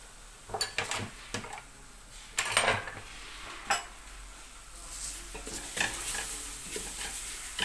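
Carrots and flour sautéing in a pan: clattering scrapes of a utensil against the pan come in bursts over a faint sizzle. Nobody speaks.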